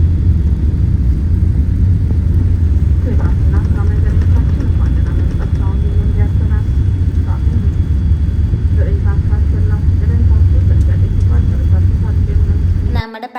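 Steady loud airliner cabin drone during a flight into Malawi, a dense low rumble with an even engine hum that holds for about thirteen seconds and then cuts off abruptly at the end.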